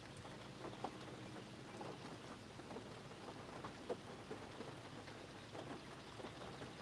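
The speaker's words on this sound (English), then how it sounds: "At least I can hear the rain now." Steady rain patters and hisses outdoors during a storm while catfishing in South Carolina, a continuous faint wash with occasional soft thumps, with no voices.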